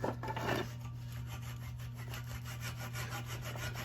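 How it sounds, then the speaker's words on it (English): A handsaw cuts through a wooden dowel rod in quick, even back-and-forth strokes, close and fairly quiet with no talking. "So we'll cut that dowel rod so that it fits snugly"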